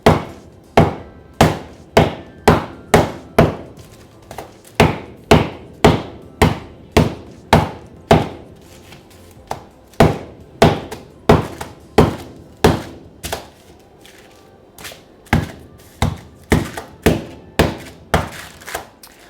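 A rolling pin beats a block of firm vegan margarine for puff pastry, giving about forty sharp, dull thunks in quick bursts with short pauses between them, close up and with no voices.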